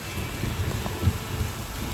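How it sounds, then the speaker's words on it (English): Rain falls harder outdoors on a mountain trail in the Sierra Nevada near Sierra City, California, a dense steady hiss with scattered low patters and thumps of drops on nearby surfaces. "Yeah, except it's starting to rain harder, so who knows?"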